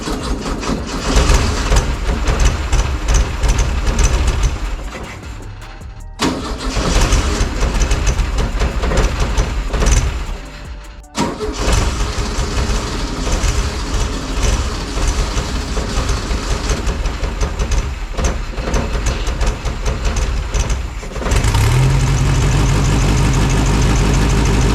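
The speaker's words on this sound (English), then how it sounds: "So I'm about to try and fire it up again and yeah, see what happens." Air-cooled four-cylinder VW Beetle engine from a backyard rat rod rebuild fires up and runs loudly and steadily, with dropouts near 6 and 11 seconds before settling into a rougher, louder run toward the end.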